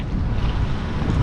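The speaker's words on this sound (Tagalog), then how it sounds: "Ang lakas ng hangin." Steady, loud roar of strong wind buffeting the microphone beside a bridge, continuous low rushing noise with no voices.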